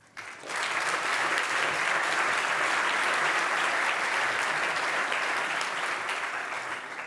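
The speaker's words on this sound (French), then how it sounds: "Merci d'applaudir et d'accueillir Anné." A conference audience applauding to welcome a speaker to the stage, a dense sustained roar of many hands clapping that swells quickly and holds steady for several seconds.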